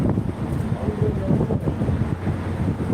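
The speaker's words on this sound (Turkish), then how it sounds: "Burası iyi esiyor ha." Strong, cold wind buffets the microphone outdoors near the sea at Yalova, giving a steady, close rumbling roar with gusty fluctuations and no talk.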